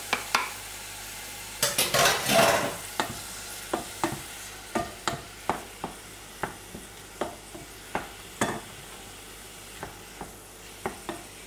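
Meat browns in a pan for rice balls, a steady sizzle running under a long series of regular spatula scrapes and taps against the pan, close and fairly loud with no voices.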